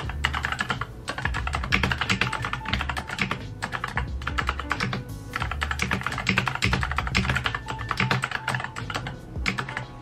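Fast, steady typing on a clicky wired keyboard, dense close key clicks with brief pauses and no talk.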